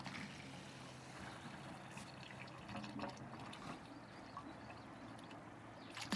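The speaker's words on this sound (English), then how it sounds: "Watch the awesome water coming out of there." Water gushing from a pump outlet into an off-grid hot tub heated by a BBQ, a steady splashing and trickling flow that stays constant and quiet, with faint outdoor background and no voices.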